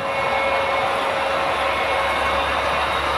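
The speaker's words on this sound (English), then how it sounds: "the little GP 9 engine is running a slightly different route than the other 2 diesels going by the town" A model railroad GP9 diesel engine and other diesel trains run past a layout town, giving a steady, continuous rumble with a thin tonal hum over a low drone; no voices.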